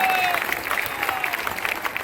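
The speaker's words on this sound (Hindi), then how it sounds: "अगर आप ताली बजाते रहेंगे तो बच्चों का उत्साह बढ़ेगा" Audience applause at a public rally for a tree-planting drive with schoolchildren, steady clapping from a large crowd at moderate distance, with faint voices mixed in.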